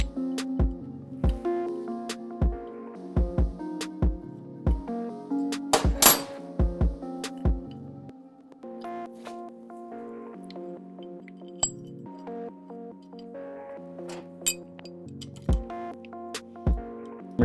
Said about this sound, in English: We're going to throw lock washers on these mid control mount bolts.